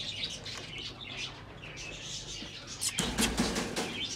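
Pigeons being let out of their coop, with a burst of wing flapping and fluttering near the end over soft chirps and background noise throughout.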